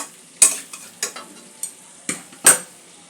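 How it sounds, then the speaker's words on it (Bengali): A spoon scrapes and clatters against a pan while stirring cauliflower and potato curry masala, giving several sharp separate strokes over a faint sizzle, close up with no voices. "আবারও একটু সব কিছু মিশিয়ে নেব।"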